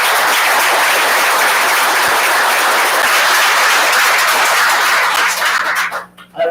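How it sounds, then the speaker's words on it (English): An audience at a school board of education meeting gives a round of applause, loud, dense and sustained clapping for about six seconds that then fades out quickly. "Let's give this group a round of applause."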